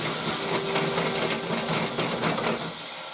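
Hot pasta cooking water hitting a pan of olive oil for peperoncino, a loud continuous hiss and sizzle that holds steady and then eases off near the end.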